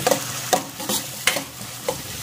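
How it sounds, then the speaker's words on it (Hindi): Finely chopped onion fries in a little oil in a kadhai, with close scraping stirs coming every half second or so over a soft sizzle and no voices. "इसी में डाल देंगे 1 बारीक चॉप किया हुआ प्याज डाल देंगे।"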